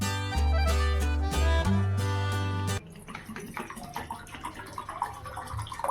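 Water is poured and splashed onto the ground at a home's main gate. Irregular splashes and trickling follow a loud, droning hum at the start.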